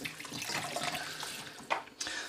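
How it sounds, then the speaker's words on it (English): Tap water rinses soap bubbles off a plastic Sega Game Gear case: a faint, steady run of water with a couple of brief splashes toward the end. "Just give that a rinse all the bubbles away"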